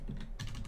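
Keys tap on a keyboard used with a Samsung Galaxy Note 9 running Linux on DeX, a couple of quick soft clicks close up.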